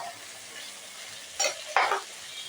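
Ginger, garlic, onion and green chilli paste frying in a pan, a steady soft sizzle broken by two louder bursts of spatula stirring and scraping.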